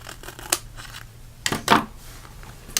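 Scissors snip mini dimensional adhesive squares in half at close range, giving a few quick crisp cuts with light paper rustling in between.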